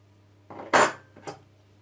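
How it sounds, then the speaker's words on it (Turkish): Eggs and sugar whisked in a bowl for Japanese dorayaki batter, heard as two brief, close metallic clinks of the whisk against the bowl with quiet pauses between. "yumurta ve şekeri çırpıyoruz"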